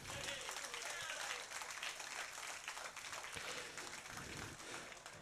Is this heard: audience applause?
yes